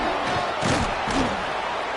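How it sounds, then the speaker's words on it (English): A football stadium crowd roars and cheers during a red zone defensive stand, a dense, loud wash of voices that swells twice, with faint talk mixed in. "And here comes the noise. This crowd is trying to inspire this defense to make a big red zone stop."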